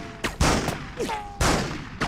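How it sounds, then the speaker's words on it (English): Gunfire in the Spider-Man PS2 video game comes as several sharp, loud shots in an irregular burst, mixed with game voices and a short whistling sound effect. "I just heard gunshots."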